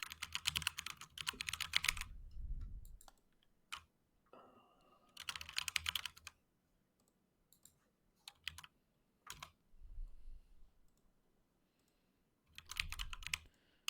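Bursts of typing on a computer keyboard, fast close key clatter in several separate runs with quiet gaps and scattered single keystrokes between them.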